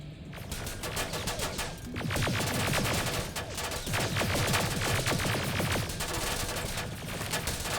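Turret gunfire in the game Terminator Resistance, dense rapid automatic bursts hammering almost continuously, loud and close, with brief lulls between volleys and no talk.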